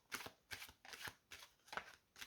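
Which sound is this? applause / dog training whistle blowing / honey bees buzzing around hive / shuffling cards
shuffling cards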